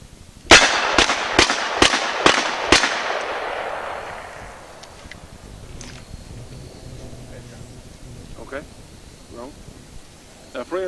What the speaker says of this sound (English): let's shoot this 10mm revolver